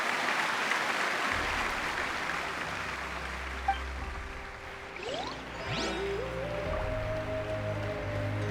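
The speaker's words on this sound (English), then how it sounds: "give her a resounding round of applause" Video game crowd applauding the hero, a steady patter of clapping that runs throughout, with a low drone and a few whooshing effects partway in.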